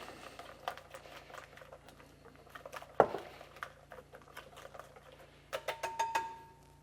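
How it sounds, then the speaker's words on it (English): A spoon mixes salted Maltese sauce in a bowl, giving light irregular clinks and wet patters at close range, with a sharper knock near the middle and a quick run of taps toward the end. "And mix well."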